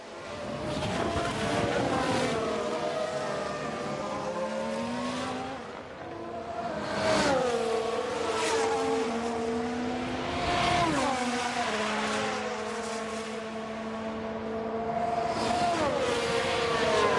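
Formula 1 engines from F1 Manager 23 roar continuously through a race at Miami, with pitch rising and falling as the cars accelerate and shift. The sound is loud and sustained, with no talking.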